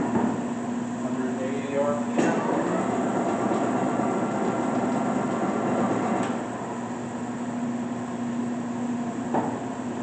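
A new Leblond Regal 24-inch sliding gap bed lathe with a 5-inch through-spindle runs at speed, giving a steady, loud mechanical whir with a constant humming tone and a few faint clicks throughout.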